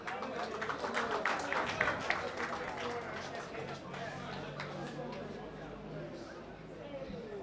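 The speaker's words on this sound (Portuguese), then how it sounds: "Uma salva de palmas para o maestro." Applause for a maestro at a live stage event: dense, steady clapping from an audience, strongest in the first few seconds then thinning, with voices talking over it throughout.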